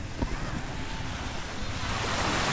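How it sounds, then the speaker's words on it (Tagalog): Ocean waves wash onto the sea shore at Dinahican, a steady broad rushing surf with wind noise, fairly loud and continuous, with no voices. "Ang ganda ng dagat dito sa amin."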